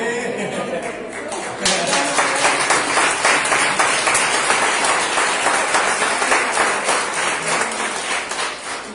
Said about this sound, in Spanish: le damos un aplauso al Rey de Reyes